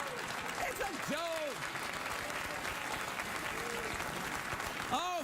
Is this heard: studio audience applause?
yes